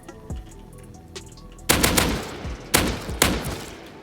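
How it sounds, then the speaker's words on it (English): In a survival video game, a shotgun trap fires through a wall, three loud booming blasts spaced about half a second to a second apart, following quieter footsteps and clicks. "Shotgun trap coming through the wall."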